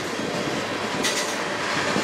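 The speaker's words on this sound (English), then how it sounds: "Trains are a lot longer going by." A CN manifest freight train rolls past on the rails of the Strathroy Subdivision, giving a steady, loud rumble and rattle of freight cars with no break and a brief brighter screech near the middle.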